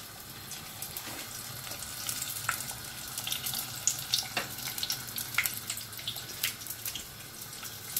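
Vegetarian nems frying in hot oil, a soft continuous sizzle with scattered crackles and pops, fairly faint and steady with no voices.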